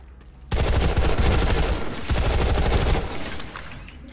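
A TR assault rifle in a video game fires in loud, rapid sustained bursts, the automatic volley running continuously for a few seconds after a quiet start.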